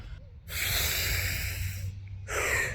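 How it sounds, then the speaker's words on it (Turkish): A man takes deep, calming breaths close to the microphone: two long, loud airy breaths with a short pause between, then a third begins. "kendimi sakinleştirip derin bir nefes alıp konuya devam edeceğim"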